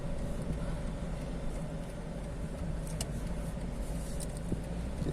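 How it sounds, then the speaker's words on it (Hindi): Toyota Land Cruiser 200 Series being driven, heard from inside as a quiet, steady engine and road hum with a few faint clicks, no talking. "तो मैं 200 सीरीज चला रहा हूँ।"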